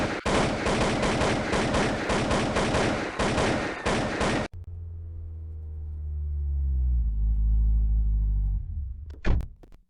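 Burst of MG Mark II machine gun fire in GTA Online, loud rapid shots for about four seconds, then a low rumbling drone and a couple of sharp bangs near the end.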